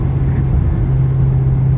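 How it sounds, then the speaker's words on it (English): A 2013 SS Camaro convertible with a new exhaust at full throttle, a loud, close, steady low rumbling drone throughout. "That was full throttle. That sounds amazing."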